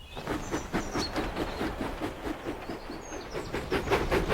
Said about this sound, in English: He pumped his pistons and puffed quickly out of the station.